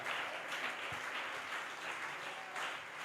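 A church congregation applauds during a sermon, a steady wash of many hands clapping that holds evenly throughout at moderate, somewhat distant volume.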